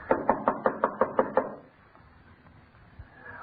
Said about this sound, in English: Oh, it was out of order when I was here. I had to knock.